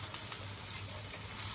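Spinach stirred into frying ground masala paste crackles with a dense, even sizzle that holds steady and close throughout, with no voices over it.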